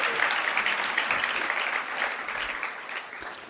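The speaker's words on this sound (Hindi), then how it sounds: "तालियां धीरे धीरे बज रही है" Listeners at a Hindi religious discourse applaud during the sermon, a continuous wash of many hands clapping that gradually softens over a few seconds, with no speech over it.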